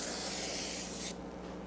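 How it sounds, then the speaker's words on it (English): Cooking spray hisses from a can onto a sheet of parchment paper in a home kitchen, one loud continuous burst lasting about a second before cutting off, leaving quiet room tone. "we're going to spray this piece of parchment paper"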